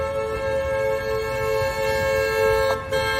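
A car horn held down by a dog in the driver's seat gives one long, steady, loud tonal blare that runs unbroken for about three seconds, close up.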